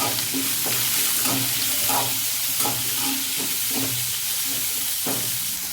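A large onion sautés in a pan for a cabbage dish, giving a steady loud sizzle and hiss with soft stirring scrapes repeating throughout.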